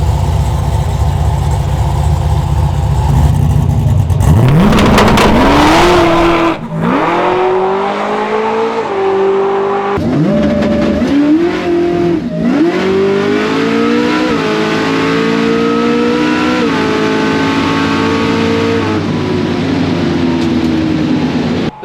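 An eight-second drag racing streetcar idles roughly, then launches down the strip with a loud rising engine scream, each gear change dropping the revs before the next climb, close and sustained for over fifteen seconds.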